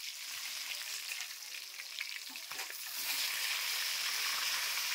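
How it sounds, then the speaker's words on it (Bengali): Catla fish turned onto its other side fries in oil, a quiet continuous sizzle and crackle that swells slightly louder partway through, with faint stirring touches. "এক পাশ হয়ে গেছে তাই অপর পাশটা সুন্দরভাবে ভেজে নিচ্ছি।"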